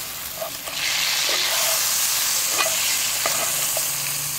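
A T-bone steak sizzling loudly in a pot with butter, a dense steady hiss that swells early and holds, with a few faint clinks underneath, close up.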